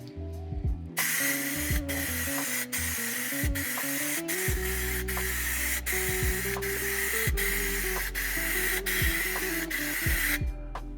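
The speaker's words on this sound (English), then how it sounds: "When you're spraying clear coat, you're going to want to be about 8 to 10 inches away, parallel to the panel" A spray gun lays clear coat onto a test panel in a steady, continuous hiss lasting about ten seconds, with faint intermittent clicks and a low hum beneath it, close and fairly loud.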